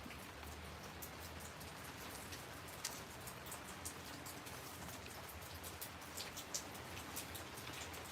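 Steady rain falls across a backyard, a dense even hiss of drops striking surfaces with occasional louder close splats, continuous and fairly faint with no voices.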